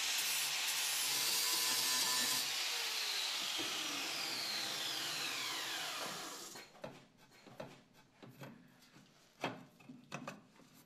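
A slot milling cutter removing small bits of metal while a café racer rear frame is being modified makes a harsh, grinding hiss for about six seconds, then gives way to quieter scattered scrapes and knocks.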